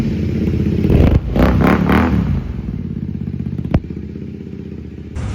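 A motorcycle engine idles and revs loudly nearby on a street, with a surge of throttle early on, a sharp clack midway and a steady rumble afterward, no talk.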